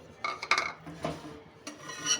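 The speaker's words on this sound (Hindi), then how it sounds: "इसी कढ़ाई में मैं ये आटा डालूंगी और इसको अच्छे से भून लूँगी।" Wheat flour being roasted and stirred in a kadhai for desi ghee halwa. A spoon scrapes and rubs against the metal in short, uneven strokes, fairly close and quiet, with no talking.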